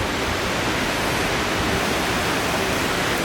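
Wind rushes through the trees along a forest trail at Fanshawe Conservation Area in London, Ontario, a steady, even broadband hiss with no gusts or breaks and no voices.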